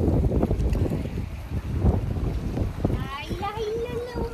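A boat trip on the Tetulia River in Bangladesh, heavy wind buffeting and a low rumbling drone close up, with a voice speaking near the end.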